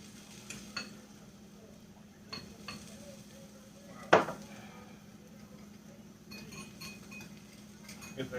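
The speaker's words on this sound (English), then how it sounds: "you just want to give this a quick stir up" Cornstarch and orange juice are stirred in a pan, giving light scraping and a few clinks of utensil against the pan, with one sharper knock midway, soft and close with a faint background hum.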